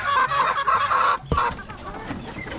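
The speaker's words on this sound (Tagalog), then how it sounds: "Yan yung mga ibang inahin natin na" Several breeding hens cluck close by in a busy, overlapping chorus, with one louder thump partway through.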